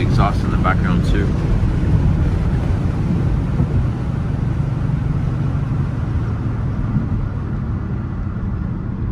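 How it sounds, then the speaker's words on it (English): A steady low exhaust rumble from a 2018 Kia Stinger GT2 while driving, with wind noise and brief voices near the start. "Plus you can hear the exhaust in the background too."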